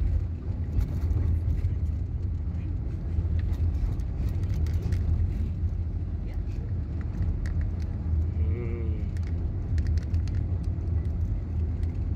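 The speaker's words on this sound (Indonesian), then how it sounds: "Inilah mobil besar." A large vehicle rolls along a congested road near the Keramasan bridge in Palembang, heard as a steady, loud low rumble of engine and road noise with wind buffeting throughout and no clear pass-by peak.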